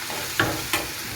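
Ginger garlic paste frying in a pan, with a soft steady sizzle and two brief scraping stirs.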